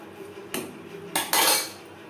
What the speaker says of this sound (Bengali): থোড় বেশ ভালো করে মিক্সড করে দেব